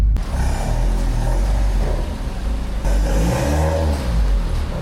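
A freshly built Honda Civic FD with a SOHC engine fires up for the first time, a loud, dense engine roar with revving swells and a deep low rumble running steadily throughout.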